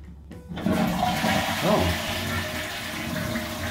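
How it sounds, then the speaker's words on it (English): A hotel bathroom toilet flushes close by with a sudden rush of water that settles into a steady gurgling refill, lasting several seconds with no voices over it. "Oh, I flushed the toilet."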